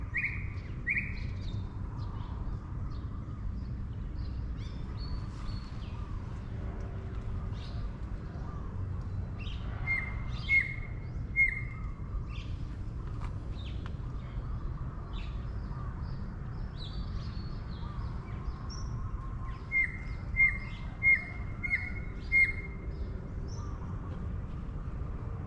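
Birds call in Thailand over a steady low background hum, with short bright chirps and repeated descending whistled notes that come in small bursts at moderate distance.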